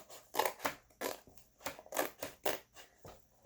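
Scissors cut through a cardboard book cover in about eight crisp, rhythmic snips. The cuts are close and fairly quiet, with brief pauses between them.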